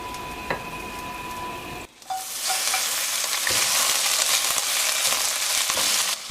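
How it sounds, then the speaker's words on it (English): Fish fillets searing in a pan of hot butter, a loud, steady crackling sizzle that bursts in abruptly after a brief quieter moment and holds strong to the end. "In a pan of hot butter, the fillets are seared, creating a perfect golden brown crust that locks in moisture and flavor."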